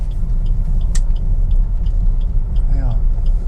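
Suzuki SX4 S-Cross 1.6 DDiS diesel car driving and swinging around a turn, steady low engine and road rumble heard from inside the cabin with a brief squeak near the end.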